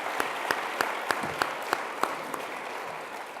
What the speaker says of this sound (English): Okay, and one more time, a round of applause for all of our judges for being here tonight.